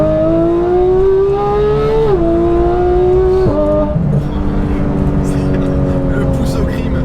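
Porsche GT3 fitted with a new aftermarket exhaust revs hard and accelerates, a loud close engine note climbing in pitch with two sharp gear-change dips, then settling into a steady drone under a faint voice.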